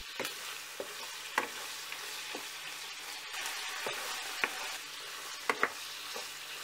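Steady sizzling of chicken frying in a pan, with occasional sharp clicks of a utensil stirring against the metal.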